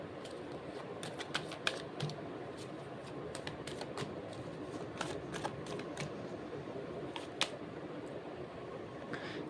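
A deck of tarot cards gets shuffled by hand at close range, a steady soft riffle with repeated crisp card snaps and flicks over about ten seconds, no talking.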